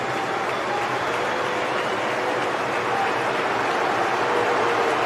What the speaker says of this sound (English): And Bellingham whips up the crowd